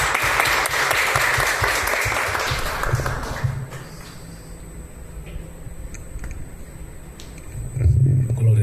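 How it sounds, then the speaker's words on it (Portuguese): A church congregation claps for Jesus during a worship service, with dense applause for about three seconds before it fades into a quieter room and a low hum. "Uma salva de palmas para o Senhor Jesus"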